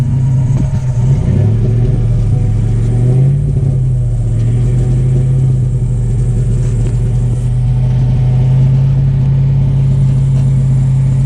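A Ford F-series truck engine with a new Flowmaster exhaust idles with a deep, steady exhaust rumble, swelling briefly as it revs, loud and close throughout with no voices.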